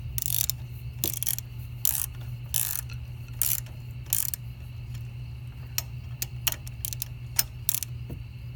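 A ratchet clicks in short bursts while tightening an exhaust bolt on a Honda Super Cub motorcycle, the quick metallic pawl ticks repeating at close range over a low steady hum.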